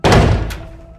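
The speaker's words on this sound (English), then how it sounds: "filming herself and pounding on Becca and Tyler's door." A single heavy thud of a fist or object pounding on a wooden bedroom door upstairs in a house, loud and close, followed by a fainter second knock and a quiet ringing decay.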